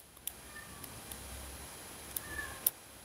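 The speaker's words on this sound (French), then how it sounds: "Mais qu'est-ce qu'elle a à miauler comme ça?" A cat gives a couple of faint, short meows in a quiet room, spaced apart among small clicks and taps.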